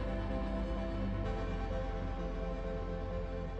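The apocalypse sound in Outer Wilds, heard in the Hanging City area, comes through as a steady, dense, rumbling drone with sustained tonal layers. It holds at even loudness throughout without voices.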